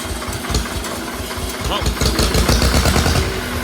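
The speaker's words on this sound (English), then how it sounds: "Turn the key on, hit the start button." A vintage car engine cranks and runs, giving a steady low rumble that grows louder about halfway through. Voices can be heard faintly alongside it.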